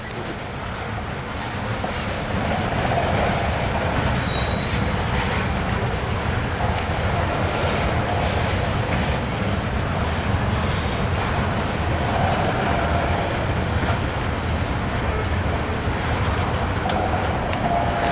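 A CSX freight train hauling ethanol loads eases into a siding in Shelby, a steady, continuous rumble of railcars rolling along the track, with faint clicking and squealing over the low drone.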